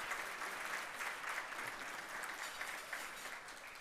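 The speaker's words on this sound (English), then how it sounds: "Let's give another round of applause for all of those awardees." An audience at a community awards ceremony applauds the awardees with steady, dense clapping that holds at an even level throughout, with no talk over it.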